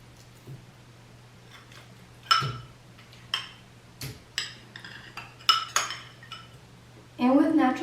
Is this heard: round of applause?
no